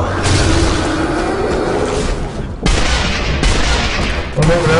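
Gunfire from a shooting video game, dense bursts and booms filling the whole stretch with brief dips, loud and close, with faint game voices mixed underneath.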